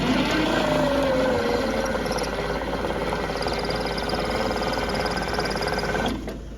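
Steady starter churning from a 1950s Fordson Major tractor engine that turns over without catching, a close continuous mechanical whir with a regular pulsing beat that cuts off abruptly near the end.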